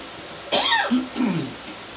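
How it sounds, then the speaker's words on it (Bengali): A woman coughs during an eating show: a single sharp cough followed by a throat-clearing rasp, close and fairly loud in an otherwise quiet room. "কাশিটা রয়েছে"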